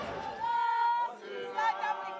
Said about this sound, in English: A crowd is coming, and they're hunting for foreigners.